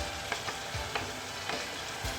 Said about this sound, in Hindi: अब इस पॉइंट पे मैं इसमें ऐड कर दूँगी टमाटर,